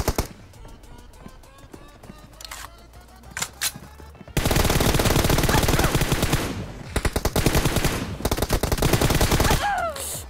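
Sporadic gunshots give way to long bursts of rapid automatic fire, loud and close, with brief pauses between volleys, in a team deathmatch shooter video game.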